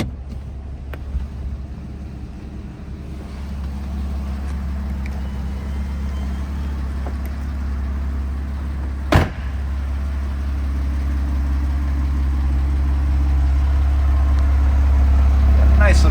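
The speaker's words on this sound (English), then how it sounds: "Nice little rumble coming out of that center exhaust." A 2007 Porsche Cayman idling through its center exhaust, a steady low rumble that swells gradually toward the end, with one brief sharp click partway through.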